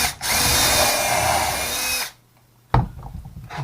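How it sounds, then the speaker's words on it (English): A power drill bores a countersink into plywood with a loud, steady whine for about two seconds, then stops, followed by a sharp knock and fainter handling noise. "And then put a countersink in here,"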